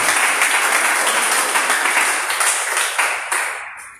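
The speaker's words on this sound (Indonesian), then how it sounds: "beri tepuk tangan" Church congregation applauding after a sermon, a dense, loud wash of clapping that holds steady and then fades out near the end.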